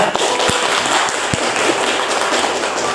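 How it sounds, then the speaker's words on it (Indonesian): Applause from a classroom audience for student presenters after a biology teaching-media demonstration, a steady dense patter of clapping with a few sharper nearby claps, lasting throughout. "Beri aplaus dulu untuk semuanya."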